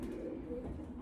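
A racing pigeon coos softly and steadily at close range, a low continuous murmur with no talking.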